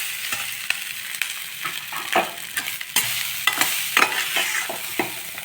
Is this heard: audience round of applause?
no